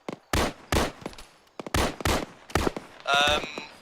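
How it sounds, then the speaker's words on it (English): A BTR armored vehicle fires on players in Arma 3, loud sharp bursts of gunfire spaced irregularly through the clip, each with a crisp crack and short decay, with a ringing metallic tone near the end. "We're getting swarmed and we got a BTR shooting at us"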